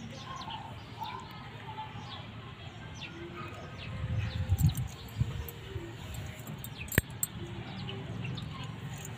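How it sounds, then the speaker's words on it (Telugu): Sparrows in a rooftop garden give faint, scattered chirps over a low background hum, with a slightly louder rustling stretch midway and one sharp click near the end. "పిచ్చుకలు వచ్చాయండి మా తోటలోకి"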